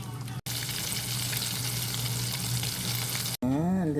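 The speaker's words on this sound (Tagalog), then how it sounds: "Fry na po natin yung ating chicken." Chicken pieces fry in hot oil with a steady, close crackling sizzle that runs continuously, briefly broken by two short cuts, with no talk.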